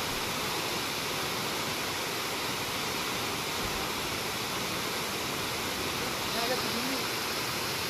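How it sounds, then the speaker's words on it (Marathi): The Rautwadi waterfall near Radhanagari in Kolhapur, flowing in May, gives a dense, steady roar of falling water that fills the whole scene evenly and without pause. "इतिहासात पहिल्यांदा मे महिन्यामध्ये हा धबधबा प्रवाहित झाला असेल"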